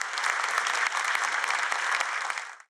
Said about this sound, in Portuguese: a plateia aplaudiu de pé